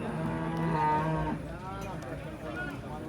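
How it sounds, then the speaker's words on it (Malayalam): Cattle at the Manjeri livestock market, with a nearby bull giving a long, loud moo, followed by a second lower call against the market's background murmur. "നല്ല കാളാട്ടോ, നല്ല സൈസ് കാളാണ്."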